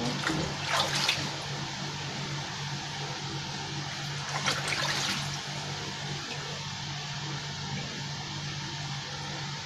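Batik cloth being rinsed in a basin of water, with a continuous sloshing wash over a steady background hum. Two louder splashing surges stand out near the start and around the middle, close and fairly loud, with no talk.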